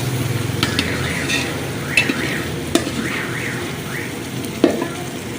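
Tomato paste for degh-style chicken korma cooks over a medium flame in a pan, giving a steady close sizzle broken by a few sharp scrapes and clinks of stirring.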